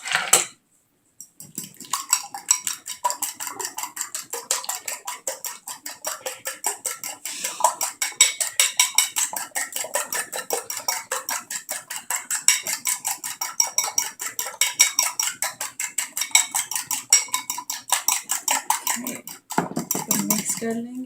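Egg wash whisked in a bowl with a fork, a rapid, continuous clinking of metal against the dish that runs close and steady for the whole stretch, with a brief pause near the start.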